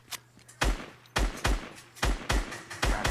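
Rapid bursts of automatic gunfire in the video game Fortnite: several quick, punchy volleys of shots in close succession over a few seconds, with no talking.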